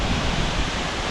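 A natural waterfall pouring over rocks in Sri Lanka gives a loud, steady broadband rush, close and unbroken, with a slight wind-like texture and no talk.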